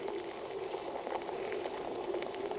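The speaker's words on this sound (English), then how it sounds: "You can look at the flow coming out of the side." Water pours steadily from the side discharge of a 1973 Bertram 28 flybridge cruiser, a continuous faint splashing hiss without pauses or voices.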